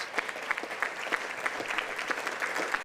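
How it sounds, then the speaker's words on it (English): Steady audience applause at a ribbon cutting for a riverfront Capital One building, a continuous wash of many hands clapping with no talk over it, heard from within the room at moderate loudness. "Give them another round of applause."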